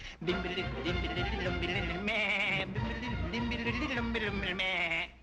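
A voice imitates a nanny goat with a continuous, wavering, pitched bleat lasting several seconds. The bleat is loud and near and fills the whole stretch.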